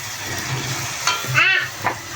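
Puchka dough frying in hot oil, a steady soft sizzle and hiss with occasional brief bubbling bursts as the dough puffs.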